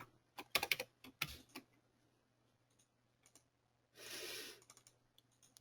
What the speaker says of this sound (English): I'll type this in. I'll just type in TRW.